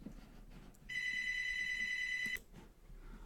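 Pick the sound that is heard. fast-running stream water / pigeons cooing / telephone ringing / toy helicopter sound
telephone ringing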